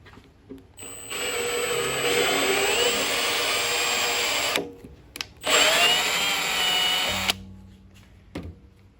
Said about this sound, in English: now I'm going to cut a thread in them with a tap